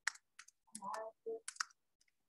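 A computer keyboard is tapped in a handful of quiet, separate clicks spread over about two seconds, with a short tonal, voice-like sound in the middle.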